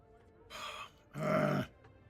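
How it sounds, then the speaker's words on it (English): A person gives a drawn-out yawn: a short breathy onset, then a longer, louder, voiced groaning exhale, close and alone in a quiet setting. "Another yawn coming. I can feel it."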